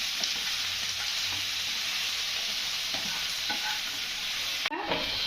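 Onions sautéing in a frying pan for mutton kosha, a continuous loud sizzle with scraping stir strokes throughout and a brief clatter near the end.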